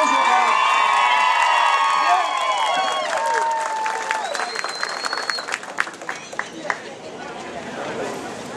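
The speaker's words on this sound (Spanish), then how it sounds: "El aplauso." Crowd applause at a PLD party office opening in El Rubio, with cheering and shouted voices early on, then the clapping thins into scattered claps and fades.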